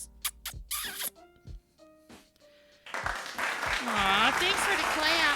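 A few sharp hand claps ring out close by at the start, then voices and laughter take over.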